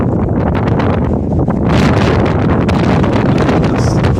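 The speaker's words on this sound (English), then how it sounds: "The wind is like hitting 30 and 40 mile an hour at times, and it'll calm down, then it'll get blizzardy again." Strong blizzard wind gusting at 30 to 40 miles an hour roars in a continuous loud rush, buffeting the microphone with low rumble and hissing, swelling slightly midway, without any speech.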